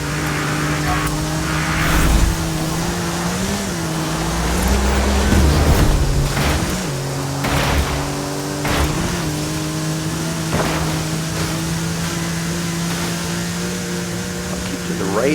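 A Porsche race car engine in a driving video game drones steadily throughout, its pitch dipping and climbing with gear changes, while someone talks over it.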